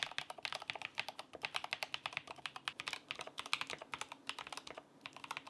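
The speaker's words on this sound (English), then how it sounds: "put them in your keyboard, and they should sound just like this" Rapid, steady typing on a mechanical keyboard with lubed Ice Candy V2 frankenswitches, soft, muted key clacks in a dense, even rhythm, heard up close with no voices.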